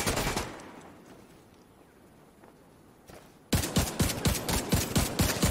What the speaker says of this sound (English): Get away from that machine gun.